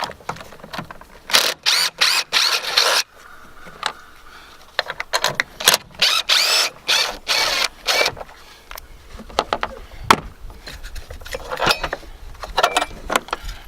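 A ratchet loosens the 10mm bolts on the battery hold-down of a Ford Super Duty truck, producing bursts of rapid metallic clicking and rattling in repeated runs with short pauses, close up.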